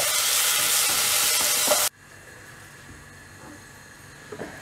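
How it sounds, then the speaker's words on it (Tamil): Onion, garlic and tomato sauté in a pan, a loud broadband sizzle for about two seconds that drops abruptly to a quieter simmering crackle with a few faint utensil taps. "இதை நல்லா ஃப்ரை பண்ணணும் வெங்காயம் பூண்டு நல்லா வதங்கின உடனே தக்காளி ஆட் பண்ணிவிட்டு இதை நல்லா வதக்கிடலாம்"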